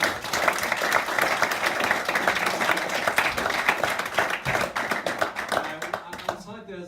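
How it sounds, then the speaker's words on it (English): An audience at a Berlin Science Week panel on knowledge and technology gives steady, dense applause that carries on evenly and then fades out at the very end. "I would like to give a warm hand of applause."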